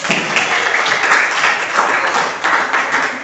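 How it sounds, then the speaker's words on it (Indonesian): A group of participants claps together at the close of a teacher mentoring session, a brief burst of dense clapping lasting a few seconds. "tepuk tangan untuk semua ya."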